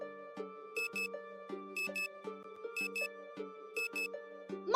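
A video game alarm clock rings with a bright electronic ringtone melody, repeating in short rhythmic bursts of beeping tones, fairly loud and alone with no talking.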